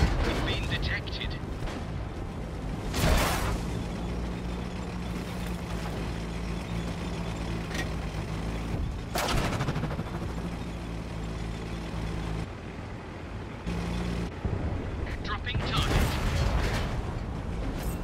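A Conqueror tank's main gun fires in World of Tanks on console, several heavy booming shots spaced over a rumbling engine and mechanical clatter, with radio-style voices talking throughout.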